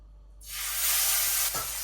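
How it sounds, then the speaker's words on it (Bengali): Small fish dropped into hot oil set off a loud, dense sizzle that bursts in after a moment of quiet and holds steady, close and alone. "এই যে কয়েকটা গুঁড়া মাছ ভেজে নিতে আসি"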